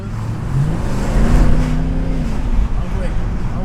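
A Mercedes C63 AMG with the Performance Pack and 487 hp, in Sport Plus mode, accelerates hard. The engine drone climbs in pitch and fades into a steady roar, heard from inside the car with some faint talk.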